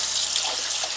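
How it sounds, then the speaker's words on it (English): Water runs steadily from a kitchen tap during dishwashing, a continuous close hiss with no breaks. "I have to wash these little bit of dishes."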